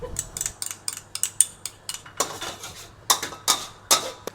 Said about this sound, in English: Whisk egg and pecorino cheese.